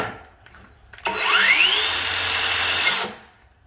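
A 7-1/4 inch cordless circular saw making a grain cut through wood, a sharp motor whine spinning up after a click and holding for about two seconds before winding down, close and loud.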